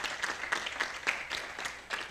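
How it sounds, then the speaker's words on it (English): Audience applause at a Commonwealth literature panel discussion, a sparse, moderate round of clapping with distinct individual claps, fairly quiet and steady throughout. "And a round of applause for Pasa."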